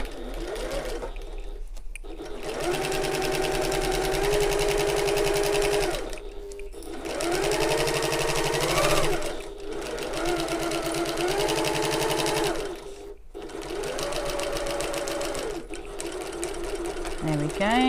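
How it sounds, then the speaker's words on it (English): A sewing machine runs in several bursts, each a few seconds long, stitching a seam on a shoulder bag with short back-stitches at the ends. The stops between runs are brief. A voice talks over the motor throughout. "I'm going to start sewing where that mark is, and I'm going to stop sewing where the other mark is"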